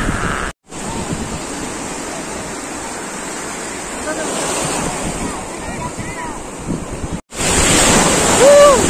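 Surf rolling onto Colva Beach in South Goa, a steady wash of breaking ocean waves with heavy wind noise on the microphone, faint voices in the background and a brief dropout near the start and again late.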